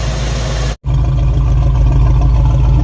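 Car engine idling with a noticeable misfire, heard up close at the exhaust: a loud, steady low rumble with uneven pulsing that drops out for a split second partway through, with no voices.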